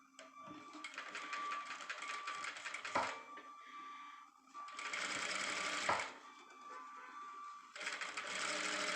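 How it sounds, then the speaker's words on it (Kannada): Sewing machine with a single foot stitching half an inch in along a blouse edge, running in three sustained bursts of fast, even needle clatter with brief stops between, close up. "ಹಾಫ್ ಇಂಚ್ಗೆ ನೀಟಾಗಿ ನೋಡಿಕೊಂಡು ಸ್ಟಿಚ್ ಹಾಕ್ಕೋಬೇಕು"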